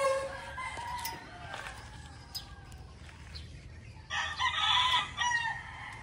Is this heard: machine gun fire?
no